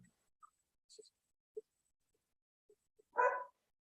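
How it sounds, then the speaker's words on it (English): A dog barks faintly a few times in a quiet room, with scattered soft noises around it and one louder burst near the end. "I got a dog barking for some reason."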